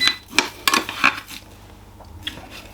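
Rice is stirred with vegetable oil in a bowl, producing several sharp clinks of a utensil against the bowl and soft scraping, then quieter movement.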